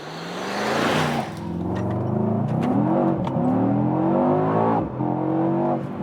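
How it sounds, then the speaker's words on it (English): A Mercedes-AMG E63 S facelift with a V8 engine accelerates hard, its deep engine note rising through several upshifts, loud and continuous with brief dips between gears. "this was a very nice acceleration and also a good old V8 sound"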